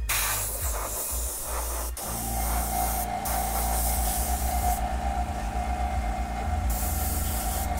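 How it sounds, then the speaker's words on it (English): Airbrush spraying paint onto a Notre Dame custom football helmet, a continuous close hiss with short pauses and restarts of the spray over a low steady compressor hum. "I just wanna get the rest of this paint on the helmet really fast before I do it."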